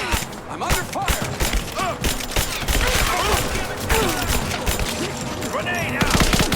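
Gunfire in the video game Rise of the Tomb Raider, scattered shots and bursts crackling under voices talking, with explosive pops mixed into busy combat sounds.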